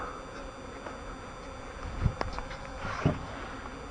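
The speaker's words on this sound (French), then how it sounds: "Ah, les abeilles elles volent dans tous les sens" Honey bees buzz in a steady hum as they fly around the hives of an apiary, with individual insects zipping close past now and then.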